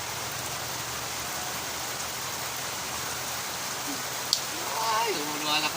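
Steady rain falls across a rural island setting, a continuous broadband hiss that stays even throughout, with a brief sharp tap near the end and faint voices and other sounds rising at the close.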